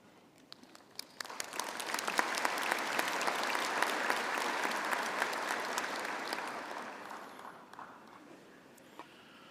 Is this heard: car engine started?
no